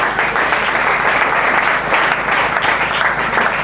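A church congregation applauding for the glory of God, a dense, steady wash of many hands clapping at once, loud and close, with faint voices mixed in.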